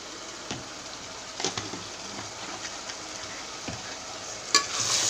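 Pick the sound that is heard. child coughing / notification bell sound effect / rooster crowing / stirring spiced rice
stirring spiced rice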